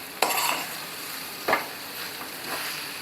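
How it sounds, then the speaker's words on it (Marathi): Dal being stirred and sautéed in a hot spiced-oil tempering for vatli dal: a soft continuous sizzle broken by two or three sharp scraping spoon strokes against the pan, close and without talk. "फोडणीमध्ये छान परतून घ्यायची डाळ."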